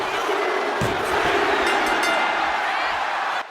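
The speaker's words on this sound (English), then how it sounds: "The crowd is erupting in cheers as Chase nails Holland" Wrestling arena crowd in WWE 2K25 roaring in a loud, sustained wall of cheers after a finishing move, holding steady before cutting off abruptly near the end.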